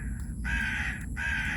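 A crow caws twice in close succession, loud and near, each harsh call drawn out, over a low steady background hum.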